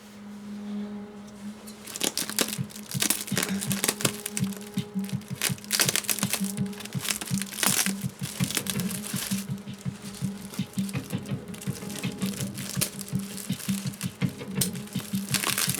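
Scissors snip through packaging around an unboxed antique 1885 Singer 12K sewing machine, quick crisp cuts in rapid irregular bursts with crinkling, close and clear after a quiet start.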